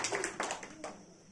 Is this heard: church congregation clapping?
yes